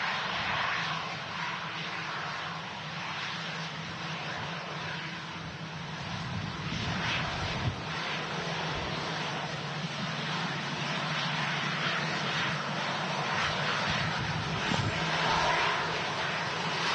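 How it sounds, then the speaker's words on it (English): A TUI Boeing Dreamliner taxiing at Manchester Airport, a steady jet engine roar with a low hum, heard from a distance and unbroken by speech. "Got that TUI Dreamliner now taxiing out"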